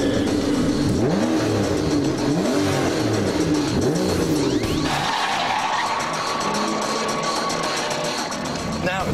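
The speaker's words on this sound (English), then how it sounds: "the sheer sound of that V12 warming up" An Aston Martin DBS V12 warms up with loud, close revs whose pitch swoops up and down several times, then settles into a steadier, higher drone with some tire squeal.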